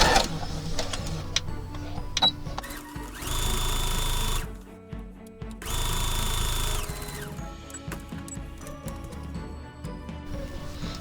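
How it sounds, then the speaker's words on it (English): A sewing machine stitches down a pocket edge near the fabric's edge in two loud, steady, close bursts of motor whir, each about a second and a half, framed by quieter handling clicks and rustles, no talking. "we're just going to sew along this pocket edge to sew it down"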